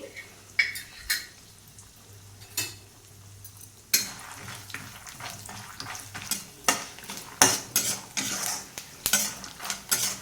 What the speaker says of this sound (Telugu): తాలింపుని ఇక్కడ మాడకుండా చక్కగా వేయించుకున్నాము